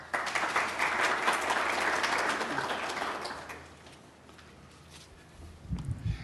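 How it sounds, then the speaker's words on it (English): An audience at a graduate orientation applauds Dr. Harry Van Buren, a faculty advisor. The clapping is full and steady for about three seconds, then tapers to near quiet before a brief low rustle at the end. "It's nice to get applause when I haven't even said anything."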